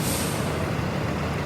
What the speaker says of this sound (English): The sound you just heard was the park brake being set.